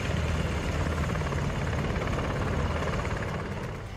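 Apache helicopters fly overhead as a dense, loud, continuous rotor and engine roar, steady throughout and fading slightly at the end, with no voices.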